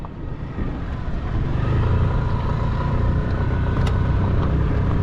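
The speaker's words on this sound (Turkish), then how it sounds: "Motorla ilk defa ormana sen giriyorsun abi." A motorcycle heads into a forest on the way to a hidden lake, its engine a steady, close rumble that grows slightly louder and holds, with no talking.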